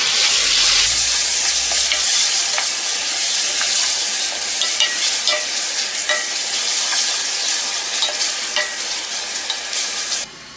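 Roughly chopped tomatoes with salt sizzle in hot oil for bhindi masala as a spoon stirs them, steady frying hiss with scattered scraping knocks, close and loud, ending abruptly.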